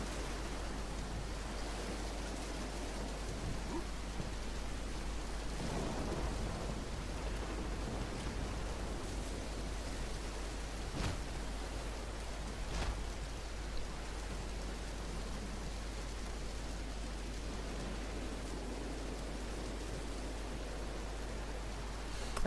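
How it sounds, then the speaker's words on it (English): Steady, even hiss of rain falls throughout in Dead Island Riptide, continuous and unbroken, with a low constant hum underneath and a couple of faint sharp knocks. "it's always raining."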